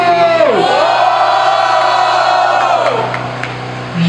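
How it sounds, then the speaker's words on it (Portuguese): A crowd at a Brazilian freestyle rap battle final roars and shouts in one loud sustained burst of cheering, close and dense, tapering off near the end. "Meu mano Kael, quem acha que deu Kael, faz barulho"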